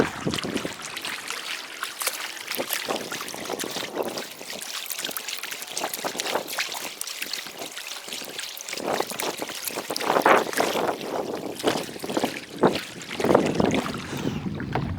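Kayak paddling down the Deep and Cape Fear Rivers in North Carolina: splashy paddle strokes and water swishing at close range, steady over wind buffeting the microphone, growing louder toward the end with no talk.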